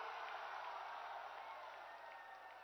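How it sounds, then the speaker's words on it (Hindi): Dense, steady applause from a large crowd welcoming the Prime Minister at an election rally in Jamui, Bihar, a continuous wash of clapping that tapers slightly toward the end. "एक बार जोरदार ताली से"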